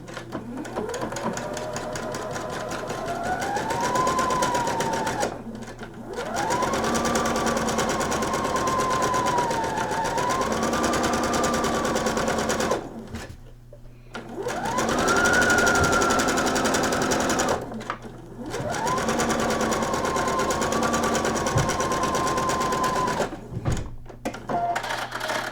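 A sewing machine runs a straight stitch along the raw neckline edge of a nightgown, four long whirring bursts with rising motor pitch, separated by short pauses, close and clear with no talk.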